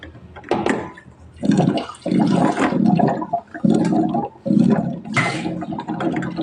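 Water gushes from a tap in several bursts, starting and stopping irregularly, close and fairly loud with no voices.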